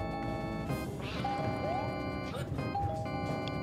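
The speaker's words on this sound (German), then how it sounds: "Hör mal auf zu klingeln, Luigi." In Super Mario Bros. Wii, Luigi rings a bell with repeated bright chimes over busy game music and sound effects.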